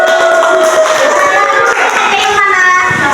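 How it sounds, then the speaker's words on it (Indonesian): Students in a grade 7 Islamic studies class applaud and cheer together, a loud continuous burst of clapping mixed with children's shouting voices. "ya, kita tepuk tangan dulu."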